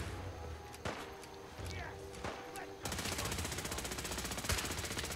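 Gunfire in the video game Fallout 4, a few sharp separate shots followed by a dense, rapid burst of automatic fire that runs loud and steady to the end.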